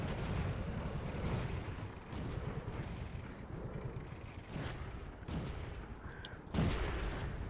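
Renault FT tank cannon firing in World of Tanks, several sharp booming shots spaced a second or two apart over a rumbling battlefield background, the last blast loudest and close.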